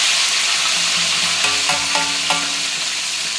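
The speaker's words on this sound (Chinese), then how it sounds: "再等，再煎另外一面金黄色。" Flatfish fries in a pan until golden, a loud, continuous close sizzle with a few sharp utensil clinks partway through.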